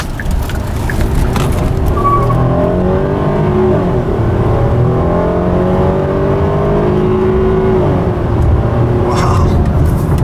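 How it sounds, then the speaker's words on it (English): A 2012 Hyundai Azera's engine pulls steadily through acceleration on a road test drive, with rising tonal whine and transmission shifts audible over continuous loud road and engine noise, no talking. "hear that engine and tranny working as one as they go down the road"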